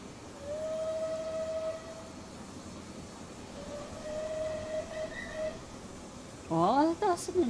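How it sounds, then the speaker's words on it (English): The steam whistle of the Merchant Navy locomotive Clan Line in Train Simulator 2020 on the Paignton to Kingswear line sounds in two long, faint, steady blasts amid rail rumble, with someone talking near the end. "Oh, that whistle's come back again."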